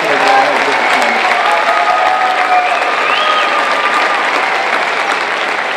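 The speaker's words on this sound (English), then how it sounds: "Let's give those folks a round of applause." An audience at a school academic awards event breaks into sustained, loud applause, a dense, steady roar of many hands clapping that fills the whole stretch, with voices faintly mixed in.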